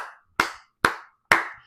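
Four sharp, loud hand claps land alone at a steady, slightly uneven pace, each ringing briefly before the next.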